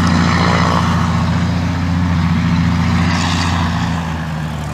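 A Spitfire's piston aero engine drones loudly and steadily close by, a thick sustained rumble that eases slightly toward the end, with no talking.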